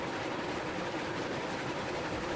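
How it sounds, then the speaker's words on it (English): Three steam trains pulling at once up a steep grade in the Railroads Online video game make a steady, dense rumble and rolling roar, loud and unbroken throughout with no voices. "All right, so 3 trains pulling at once."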